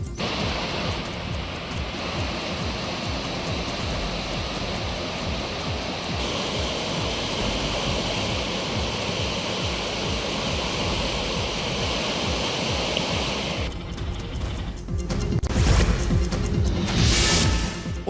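Rushing floodwater of the Nandini river at Kateel, swollen and overflowing after heavy rain, roars as a loud, steady broadband torrent throughout, surging somewhat louder near the end.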